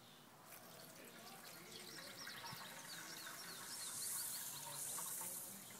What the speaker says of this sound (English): Fill it with water as needed